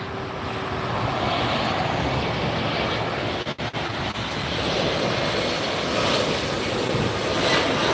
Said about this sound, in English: So arriving is an E-Jet from Redmond.